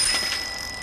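A new bicycle's bell gives a quick, bright ring that trails off over under a second, heard on its own and fairly close.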